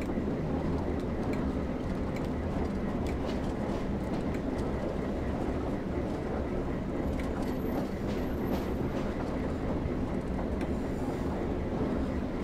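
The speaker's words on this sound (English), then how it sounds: "Is that another train coming into the station?" Rumbling rail noise from the Northern Trans-Pennine route in the game Train Sim World 4 as a train pulls into a station, a continuous steady drone with clattering texture and a brief high whine near the middle.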